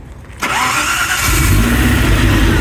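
A Maserati Shamal's twin-turbo V8 cranks and fires, catching abruptly into a loud, steady idle with a deep rumble from quad exhausts, heard close and alone.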